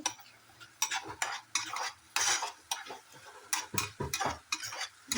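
Spice powders, cumin and coriander, being stirred into a tomato masala in a pan, with repeated scraping strokes of a spoon in an irregular rhythm over a faint sizzle, close and fairly loud, no voices.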